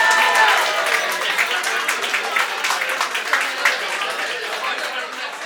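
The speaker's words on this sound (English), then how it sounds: "let's give her one more big round of applause" Audience applause at an EP launch party, a steady crowd clapping that begins loud and stays dense, easing slightly toward the end, with some voices mixed in.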